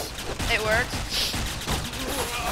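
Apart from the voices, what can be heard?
gunfire in a video game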